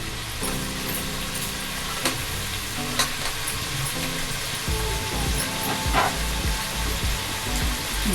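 Onions frying in a pan for pulao, with a steady loud sizzle and intermittent scraping clanks of a spatula stirring the pan, continuing throughout.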